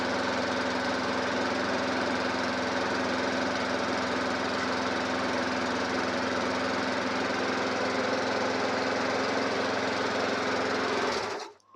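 A lawn mower engine runs steadily inside a shed, a close, even droning buzz that holds for several seconds and then cuts off abruptly at the end, with no talking.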